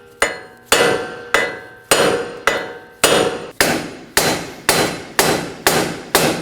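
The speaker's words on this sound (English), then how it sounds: "I'll be using a hammer to strike on this top portion right here." Heavy hammer blows ring out on the metal wheel hub of a 2020s Toyota Corolla, about a dozen sharp strikes at a steady pace, each with a short clanging decay, close and loud.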